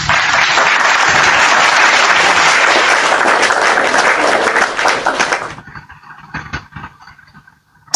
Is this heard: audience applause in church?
yes